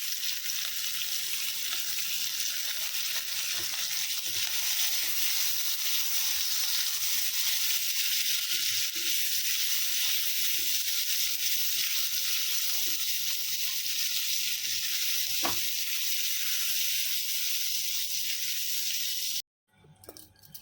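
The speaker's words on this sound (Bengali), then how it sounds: "পরিমাণ মতো তেল দিয়ে তার সাথে অল্প পরিমাণ কালো জিরে দিয়ে পেঁয়াজ কুচি, রসুন, কাঁচা লঙ্কা সব কিছু দিয়ে ভালো করে ভেজে নেব" Chopped onion, garlic, green chilli and black cumin fry in oil with a continuous, even sizzle and hiss, then fall quiet for the last second.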